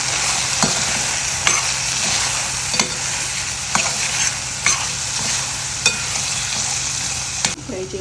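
Paneer frying in a pan with garam masala, coriander and cumin powders sizzles with a continuous hiss. Close, regular scrapes of the stirring spoon land roughly once a second, with no talking.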